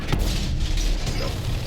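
A Technodrome tank cannon fires in the video game World of Tanks, a single sharp boom near the start followed by a dense, heavy rumble.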